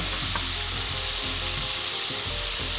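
Andouille sausage fries in hot oil in a pan, giving a loud, steady broadband sizzle with faint clinks and scrapes underneath and no voices.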